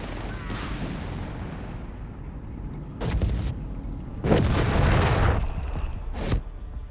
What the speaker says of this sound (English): we do get in fact some registered artillery there out of Flokl